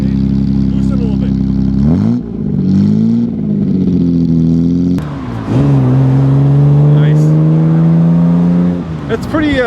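A 1955 Aston Martin DB2/4 drop head coupe of about 120 horsepower is driven with its engine close and loud, rising and falling as it revs and shifts, while people talk over it.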